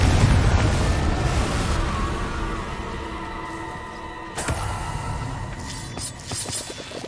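Confringo fire spell explosion in Hogwarts Legacy, a loud deep boom opening the clip and rumbling away, followed by a second sharper burst and crackling tail, no talk.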